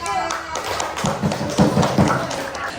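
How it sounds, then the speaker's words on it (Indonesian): Students in a classroom give a short round of clapping after a group presentation, a few scattered claps and taps standing out amid voices talking. "Beri tepuk tangan."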